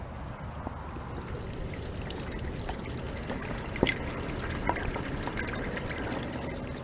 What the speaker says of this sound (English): So that's a bunch of water coming out.